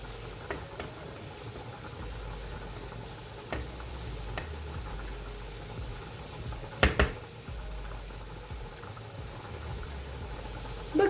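A pot of beans bubbling steadily at a low boil, with a constant gurgling hiss and a few soft clicks and knocks now and then.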